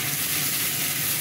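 Spice paste with onion paste frying in a pan, a steady close sizzle with a soft hiss, brief and continuous with no voices.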